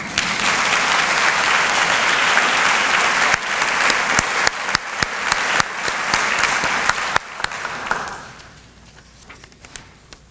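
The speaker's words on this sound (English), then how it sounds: "I think that deserves another round of applause" A large audience gives a round of applause at a lecture event, with dense, steady clapping that breaks into scattered individual claps before fading out near the end.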